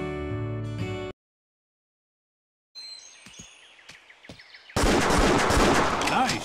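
Sharp, isolated gunshots in the Wii hunting game Buck Fever, several distinct cracks over outdoor ambience with birdsong, following a brief musical jingle and silence, then a louder burst of game noise.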